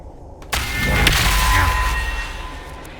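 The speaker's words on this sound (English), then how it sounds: "Gatlock blasts a little hole in there." An explosion blasting a small hole in a fantasy video game set in underground tunnels: a sudden heavy boom with a rumbling, debris-filled tail that fades over a couple of seconds.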